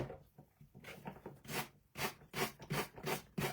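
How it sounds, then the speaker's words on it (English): Repeated strokes of a coarse sanding block rubbing across a wooden wine box, a series of loud, close raspy swipes that grow more regular and forceful in the second half. "a nice coarse sanding block will just really be the easiest thing"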